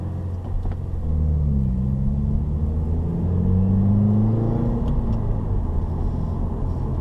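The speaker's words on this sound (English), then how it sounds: "Rev matching in this car is pretty easy. You probably heard me do it a couple times." A 2015 Subaru WRX engine rumbling steadily from inside the cabin, with a few quick revs rising and falling as gears are rev-matched; no voices.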